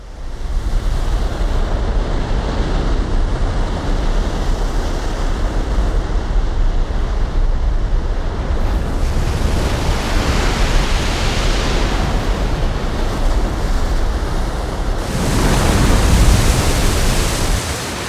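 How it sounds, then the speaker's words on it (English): Strong wind roars over crashing sea waves in a continuous loud rush, swelling in surges every few seconds. "Everything was nice and safe until the wind and the waves appeared."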